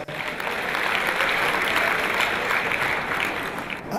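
A comedy show crowd breaks into steady applause, dense clapping from a large audience that swells quickly and holds at an even level before tapering near the end.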